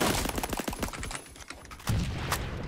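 M4 rifle fire in the video game Roblox Phantom Forces: quick strings of sharp automatic shots in close bursts, then a brief lull before another loud burst near the end.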